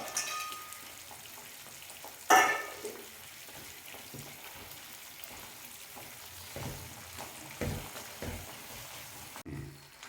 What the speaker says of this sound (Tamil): முந்திரி திராட்சை நல்லா கலந்து விட்டுட்டோம் அது பாத்திரத்தில் ஒட்டாத அளவுக்கு நல்லா ஒரு சுருண்டு ஒரு அல்வா மாதிரி ரெடி ஆகிடுச்சு